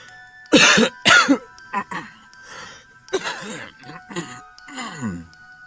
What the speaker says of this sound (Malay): Dan Datuk pura-pura batuk.